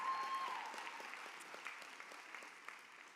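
Audience at a university commencement ceremony bursts into applause, a dense wash of clapping from a large crowd at a distance that gradually thins and fades.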